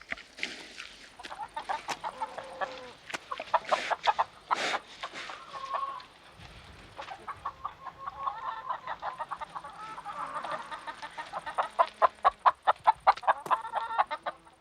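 A rooster and hens cluck and squawk close by on a farm while pecking at cherries, with busy, uneven bursts of calls and a few louder crowing-like cries, no talking.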